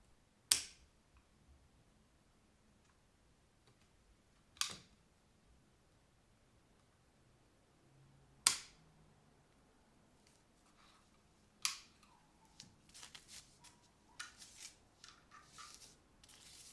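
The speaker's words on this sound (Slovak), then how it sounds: "Tá druhá z nich uvoľní záchyt úderníka a dôjde k výstrelu." A Umarex P08 CO2 blowback replica pistol gives four sharp, isolated trigger clicks spaced a few seconds apart in a quiet room, followed by a flurry of softer handling clicks.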